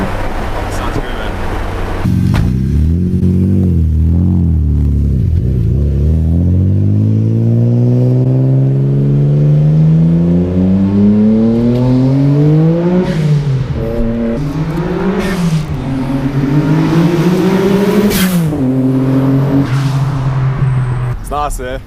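A Nissan Skyline R34 GTR V-Spec engine revving hard and repeatedly, loud and close, its pitch climbing and falling through several throttle blips with brief lifts between, while voices are faintly mixed in.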